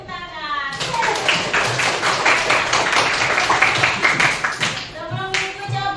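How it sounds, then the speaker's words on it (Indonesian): A classroom audience bursts into lively clapping that swells quickly, holds as a dense patter of many hands for about four seconds, then tapers off. Voices are heard faintly around the applause. "Beri tepuk tangan."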